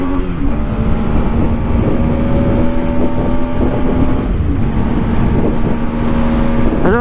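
A 125cc Century motorcycle engine holds a high, steady droning whine at high revs, loud and continuous with wind rush over it.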